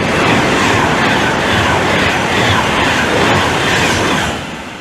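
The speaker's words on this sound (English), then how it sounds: "the 1146 Virgin train service from London Euston to Glasgow Central" A Virgin Trains passenger service rushes past on the West Coast Main Line near Hemel Hempstead, a loud, continuous roar of wheels and rushing air close by that holds steady throughout and begins easing only at the very end.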